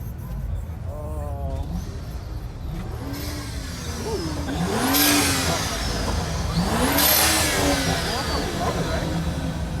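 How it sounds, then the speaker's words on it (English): A car's exhaust revs repeatedly at a nighttime car meet, rising and falling engine swells that build louder midway, under a noisy crowd with people talking nearby. "Someone's exhaust."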